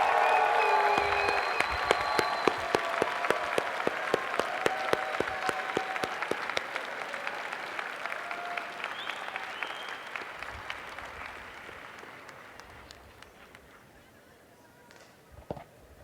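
A large commencement audience at a Berkeley Engineering baccalaureate ceremony claps and cheers for family and friends, a dense wash of applause with scattered shouts that gradually fades over about sixteen seconds, ending with a few isolated claps.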